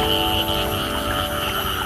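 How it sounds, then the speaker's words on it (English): A steady, dense croaking chorus of frogs fills Pasir Ris Park near the beach in Singapore. It is continuous and fairly loud, with no voices. "which you can hear the sound of the frog"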